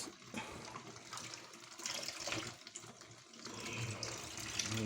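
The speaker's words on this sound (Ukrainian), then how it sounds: "тече вода" Continuous gushing, splashing water draining steadily from a valve on a water heater tank, close by and fairly quiet, with no voices.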